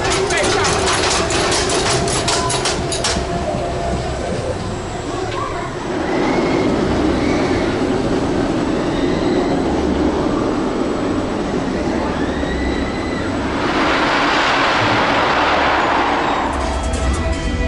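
Roller coaster trains at Six Flags Magic Mountain, including racing trains on Twisted Colossus, rumble and clatter along the track, wheels rattling and screeching as they pass, with distant voices and screams mixed in.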